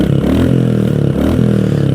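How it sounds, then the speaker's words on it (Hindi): A Royal Enfield Classic 350 motorcycle idles nearby, its exhaust putting out a loud, deep, steady thump with a regular pulsing beat and no talking over it. "एक बार एग्जॉस्ट हम सुनना"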